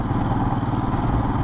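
A Royal Enfield Himalayan motorcycle engine thumps in a steady, close, low rumble as the clutch engages and the bike pulls away.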